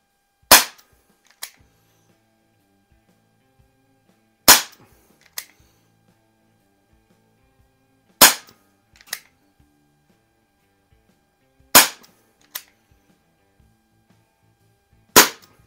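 A Crosman SNR357 CO2 air revolver fires five sharp, loud shots at roughly regular intervals. Each shot is followed by a softer click or impact shortly afterward, with near silence in between.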